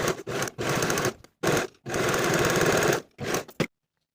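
A sewing machine finishes the outer edges of a knit cardigan, running close and steady in several bursts of stitching separated by short pauses, ending in silence.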